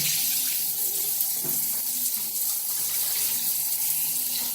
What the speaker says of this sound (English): That's how much water is coming down.